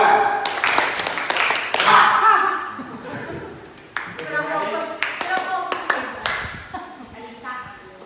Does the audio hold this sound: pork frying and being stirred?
no